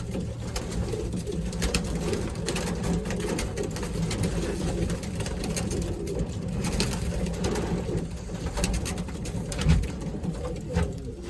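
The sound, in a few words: racing pigeons in the loft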